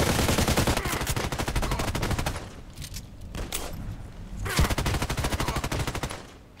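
Rapid automatic gunfire from a DT-SRS sniper rifle setup in a shooter game, loud and continuous bursts of shots with a brief lull before a heavy blast and more sustained firing.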